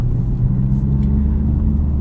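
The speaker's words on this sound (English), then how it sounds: "Right now I have my exhaust valve closed" A low, steady exhaust rumble from a Honda Civic Type R (FL5) with its exhaust valve closed, deep and muted, idling or cruising without sharp revs, and no one speaking.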